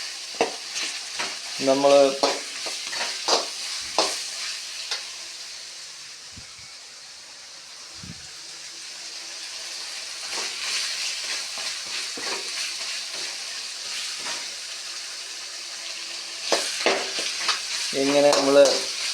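Masala sizzles steadily in a frying pan while a spoon stirs through it, soft scraping bursts rising over the hiss; a voice speaks briefly near the end.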